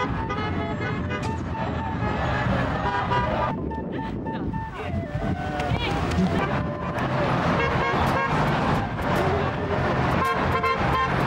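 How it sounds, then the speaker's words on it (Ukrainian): Passing cars honking horns in support of Ukraine at a roadside rally in Edmonton, Alberta, several tonal toots over traffic noise and wind buffeting the microphone, with voices talking in the background. "Їх привітно вітали проїжджаючі авто та сигналили в знак підтримки України."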